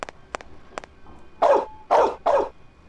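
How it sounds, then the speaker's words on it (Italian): Dog barking in the video game Mafia: a few faint early yaps, then three loud, close barks in quick succession near the end, with no talk over them. "Il cane è fuori, che ancora rompe i coglioni."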